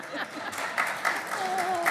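Brief, scattered applause from city employees at a Myrtle Beach city council meeting, short bursts of clapping mixed with murmuring voices in a room.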